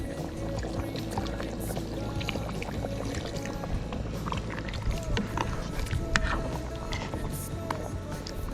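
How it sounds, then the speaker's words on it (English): Broth pours into a cooking pot outdoors, a steady splashing, gurgling liquid sound lasting several seconds with faint outdoor background noise. "add some broth"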